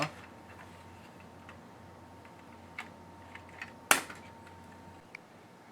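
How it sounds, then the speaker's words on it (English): A PlayStation 2 top cover comes off, with a few faint ticks and then one sharp, close plastic click over a low steady room hum. "there's a little bit of a clicking sound when it comes off"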